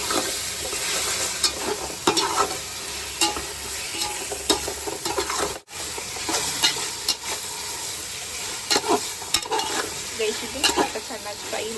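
Sliced tomato masala for spicy biryani stirred while frying in a pot: loud, steady sizzling with repeated scraping spoon strokes across nearly twelve seconds, one brief dropout midway, no speech.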